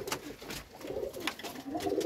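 Pigeons coo repeatedly in a small pigeon loft with nesting boxes, several overlapping low throaty calls continuing steadily and fairly close throughout.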